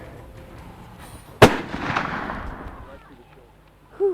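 Single sharp gunshot from a 45-70 hunting rifle on a plains game hunt in Botswana's Okavango Delta, a loud crack with a decaying echo, followed by quiet and a brief voice at the end.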